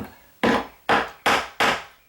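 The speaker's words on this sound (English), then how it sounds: "I'm going to take my hammer, tap the bottom" Four sharp wooden knocks, evenly spaced and close, each with a short decaying ring, as a hammer taps the bottom of a sagging wooden door.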